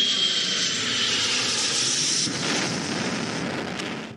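A passenger airplane flies overhead with a loud, steady roar of engine noise that holds for about four seconds, broad and continuous, with a slight swell near the end and no voices.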